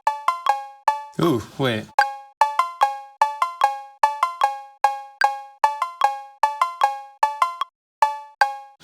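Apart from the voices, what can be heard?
sampled cowbell sound played on a sampler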